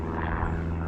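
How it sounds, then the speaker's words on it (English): Propeller plane flying overhead, a steady droning engine hum, fairly loud and continuous for a brief moment with no voices. "And a plane flying above me."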